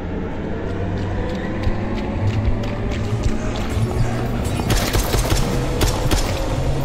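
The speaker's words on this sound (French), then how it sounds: "Elle me tire dessus!" Rapid gunfire aimed at the player in an Oculus Quest VR shooting game, a dense stream of sharp cracks under a constant rumbling din that intensifies into thick volleys near the end.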